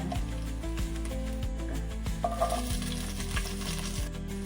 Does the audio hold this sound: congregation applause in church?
no